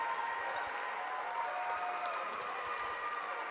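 Steady crowd applause fills a high school gym as a senior player heads off the court late in a Layton Lancers boys basketball state tournament game against American Fork, with family clapping him off; continuous and unbroken throughout.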